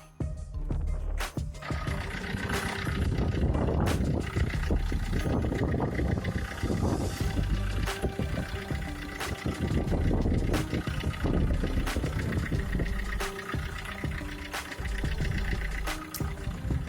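An Opel Corsa 1.3 CDTI diesel engine cranks, catches and settles into a steady, rumbling idle, with a low, continuous drone and a few sharper mechanical clicks throughout.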